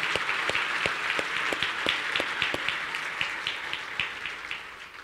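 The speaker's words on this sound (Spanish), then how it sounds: "¿Por qué no das un aplauso al Señor?" A church congregation applauds together, a steady wash of hands with some individual claps standing out in a loose rhythm. It stays moderately loud and sounds like a large room.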